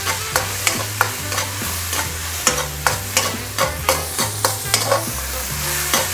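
Mushrooms tossed into bacon frying in oil give a loud, close sizzle under a steady run of regular stirring knocks and scrapes, with no voices.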